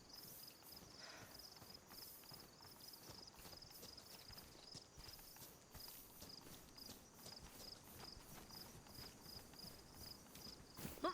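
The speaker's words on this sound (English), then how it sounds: "I keep hearing heavy footsteps around me, and it's making me paranoid." Heavy footsteps in the video game DayZ, a steady run of soft thudding steps continuing without a break over a constant background of insect-like hiss, with no talking.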